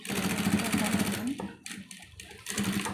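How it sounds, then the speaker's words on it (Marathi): A sewing machine runs continuously through fabric with a fast rhythmic whir, briefly stopping and restarting, close by while a person talks over it. "एकत्र जुळवून शिलाई मारणे."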